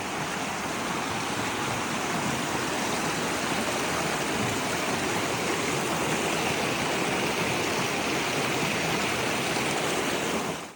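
A river rushes steadily near a trail crossing, a dense, even wash of flowing water close by and uninterrupted from start to finish.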